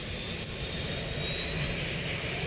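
A propeller airplane engine drones steadily and evenly throughout, a constant mechanical roar with no pauses.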